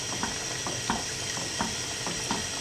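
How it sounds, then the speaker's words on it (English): A spoon stirs sausage pasta sauce with basil in a pan, giving a steady, regular series of soft scrapes and taps over a low sizzle, with no one talking. "Give it a stir."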